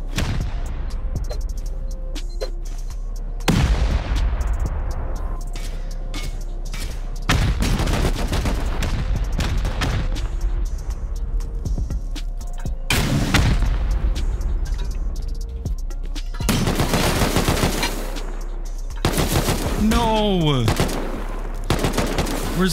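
Heavy explosions from C4 and rattling automatic turret gunfire pound a raid base in a survival video game, a dense near-continuous barrage of loud blasts and fire with several sharp booming peaks.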